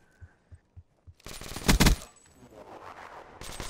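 Video game gunfire: a few soft thumps, then a loud, sharp burst of rapid shots followed by rumbling echo and scattered lighter noise, with no talking.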